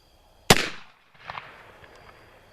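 A single sharp, loud report from an 1860 Army black powder revolver, followed by a brief quieter rumbling tail.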